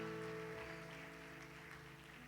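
A church conference audience applauds steadily for a guest, the clapping spread wide as a soft wash of noise under sustained musical tones, with no one speaking.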